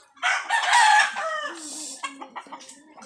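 A rooster crows loudly nearby, one drawn-out cock-a-doodle-doo, followed by a few shorter clucking calls that trail off.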